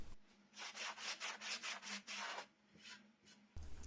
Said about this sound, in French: Toujours avec ma petite cale à poncer souple, j'ai bavure l'entrée des trous.